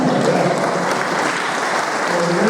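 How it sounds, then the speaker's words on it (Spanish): An audience at a lecture on the Guadalupan codex claps in loud, dense applause, a full, steady roar of many hands sustained through the whole moment without speech. "un aplauso por favor para quien dijo eso"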